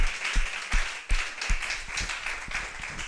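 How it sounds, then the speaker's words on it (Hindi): A congregation clapping together at a Sunday church service, a steady rhythmic clap roughly every third of a second over a background murmur, with no talk. "ताली बजाए इस वचन के लिए"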